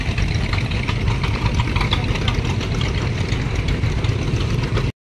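Many boats race along a river near Kolaghat with a steady, loud engine drone and rough, knocking mid and low tones that run without a break until the sound cuts off abruptly.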